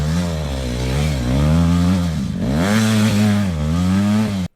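A KTM SX 125 two-stroke dirt bike engine drones steadily on an easy ride, its loud buzzing pitch rising and falling gently with throttle changes before cutting off abruptly.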